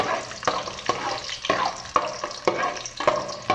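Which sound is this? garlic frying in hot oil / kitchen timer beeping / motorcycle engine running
garlic frying in hot oil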